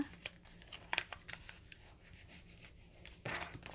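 Paper being folded and pressed by hand into an origami picture frame, with soft crinkles, rubs and a few sharper crisp creases, quiet and close, no talking.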